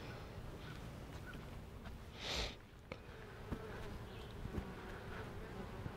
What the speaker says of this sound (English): Lots of nurse bees on there.